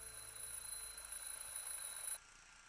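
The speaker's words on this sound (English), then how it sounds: "The alarm went off." An alarm clock rings in the video game Double You, a continuous thin, high electronic tone holding steadily for about two seconds before stopping abruptly.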